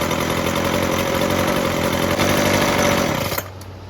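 A Weedeater FL26 weed trimmer's small two-stroke engine idles loudly and steadily with its clutch still spinning, then cuts off abruptly near the end into near silence.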